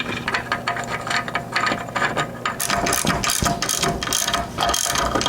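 A hand ratchet clicks in quick repeated bursts while a transmission mount is bolted to the underside of the transmission on a 1934 Ford coupe hot rod, close and loud, with a faint metallic ring and no talking.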